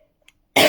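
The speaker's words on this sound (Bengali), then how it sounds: "কাশি হয়েছে।" A person with a sore, scratchy throat gives a single sharp cough, close and loud, after a near-silent moment.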